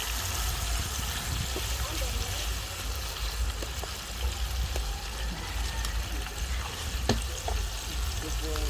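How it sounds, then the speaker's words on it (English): Chicken pieces frying in a pan of oil for a homestyle Jamaican dish, a steady bubbling sizzle throughout with occasional clicks and pops, a few soft voices talking over it. "And then fry the rest."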